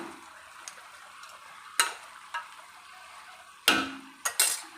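Pieces of chicken fry in a pan with a soft, steady sizzle. A few sharp clicks and scrapes cut in, and a louder clatter comes near the end, likely from a lid or utensil.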